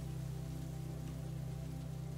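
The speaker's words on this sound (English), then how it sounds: "as rain pelts the windows of your house" Rain pelting the windows of a house, a faint, even hiss of drops over a low steady hum, with no one speaking.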